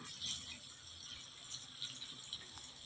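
Leftover hot water poured from a vessel into a pan of red pasta sauce, a steady splashing, trickling pour that holds close and fairly quiet for about three seconds, with no talking.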